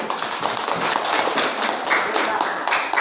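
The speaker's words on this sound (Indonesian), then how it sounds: "Tepuk tangan untuk kelompok auditori." Classroom applause for a student group during a lesson: a short burst of clapping from many hands, fairly close and steady, with some voices mixed in.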